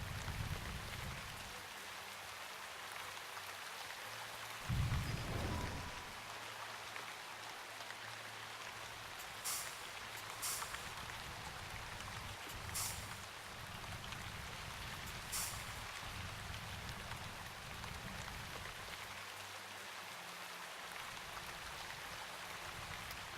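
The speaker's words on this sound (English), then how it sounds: "Is it raining? There's like a lot of water sound effects going on right now." Rain falls steadily in the video game Shroud of the Avatar, a soft continuous patter with dripping water, quiet throughout, broken by a brief thud and a few faint light clicks.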